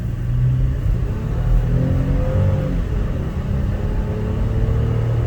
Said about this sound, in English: Okay, I'm gonna give it some gas.